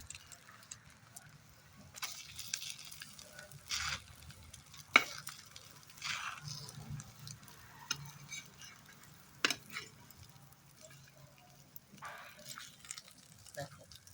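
Patishapta pitha, thin Bengali rolled crepes, fry gently in a pan, a faint soft sizzle under occasional spatula scrapes and stirring clinks, with a few sharper taps.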